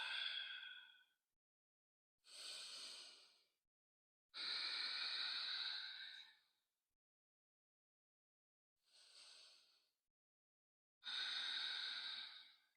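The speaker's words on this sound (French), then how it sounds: "2 cycles de respiration." Slow, deep yoga breaths in downward dog, five distinct breath sounds separated by silent pauses, airy and close, alternating longer inhales and exhales.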